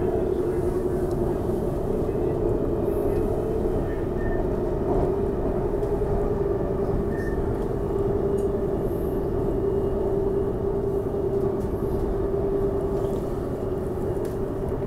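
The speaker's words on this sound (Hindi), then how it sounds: "सामने से यहाँ पे ट्रेन आ गई है।" A Delhi–Meerut RRTS rapid rail train runs past on the line, heard as a steady, loud rumbling roar with a sustained low hum that holds evenly throughout, with no talking.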